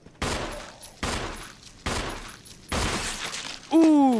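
Gunfire in Resident Evil Remake HD: four heavy shots at a roughly even pace, each ringing out briefly, followed by a short voiced exclamation at the end.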